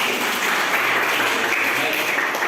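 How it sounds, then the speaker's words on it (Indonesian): Steady, dense applause from an audience at a university teaching presentation, with voices talking over the clapping throughout. "Jadi beri tepuk tangan ya."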